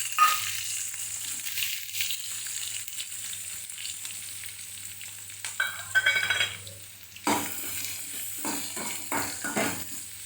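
Onion fries in a pan with cumin, a steady close hiss and crackle running throughout, broken by a few louder stirring scrapes and clatters toward the end.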